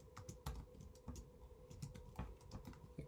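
Fingers tap quickly at a computer keyboard while entering data into a spreadsheet, an irregular patter of close, quiet clicks with short pauses between bursts.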